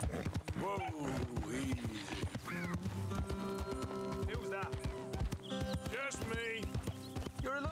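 A horse in the video game Red Dead Redemption 2 clip-clops along steadily at a gallop, close and clear, with a whinny and someone talking over the hoofbeats.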